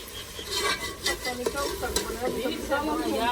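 Masala frying and being stirred in a pot in a village family kitchen, a steady sizzle with scraping spoon strokes, close and continuous under background household noise.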